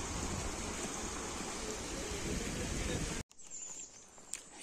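A mountain stream rushes loudly and steadily where water is being filled, a dense continuous wash that cuts off abruptly near the end, leaving quieter outdoor ambience.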